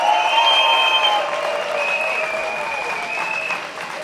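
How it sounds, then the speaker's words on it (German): Loud audience applause after a show by the Berlin Boom Orchestra at a poverty-awareness event, a dense, sustained wash of many hands clapping that eases slightly toward the end. "Großen Applaus vielleicht nochmal an dieser Stelle."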